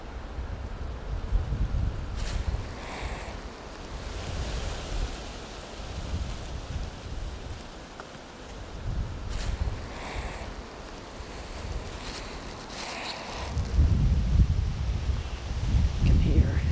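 Gusty wind blows steadily outdoors at dusk, a broad rushing roar that swells and eases in waves and builds louder toward the end, with no voices over it.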